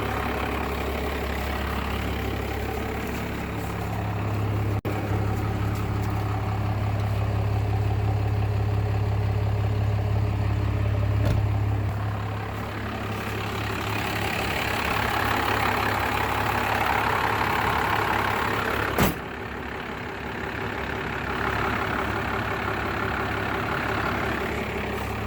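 A truck engine idles steadily after being jump started from a dead 12V battery with a Harbor Freight jump box, a loud, close, continuous low rumble that shifts slightly in tone partway through, with one brief click.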